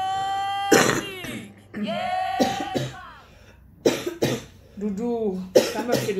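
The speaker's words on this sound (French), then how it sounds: "La toux." Several harsh, close coughs burst out in irregular fits, separated by vocal sounds that seem staged for comic effect, with a person's voice heard between them.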